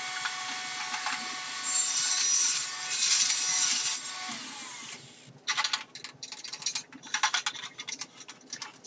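A power saw cuts plywood shelves for a modern wooden media console, a steady loud whine for several seconds that then breaks into choppy, rattling bursts as the cut ends and the blade spins down.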